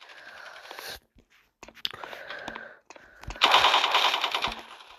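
Gunfire in the Roblox shooter Block Post sounds in rapid automatic bursts with sharp cracks, quiet at first, then a loud sustained volley, while a player mutters.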